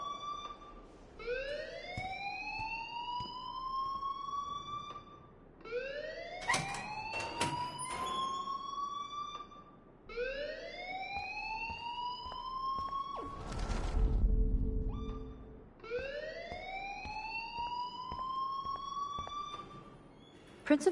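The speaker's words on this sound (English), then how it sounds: "please turn off that alarm since that's your job" Electronic alarm ringing in a school in a video game, loud rising wailing sweeps repeating about every five seconds, interrupted midway by a burst of noisy rumble before the wail resumes.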